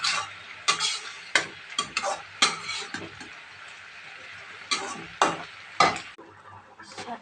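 Loti shak greens cooking with potatoes in a pan, stirred with a utensil that gives sharp, irregular scrapes and knocks close by over a faint low hum.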